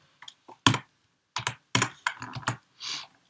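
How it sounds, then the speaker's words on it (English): Typing on a computer keyboard: scattered, irregular bursts of close key clicks separated by short pauses, with no talking. "having a hard time with the keyboard."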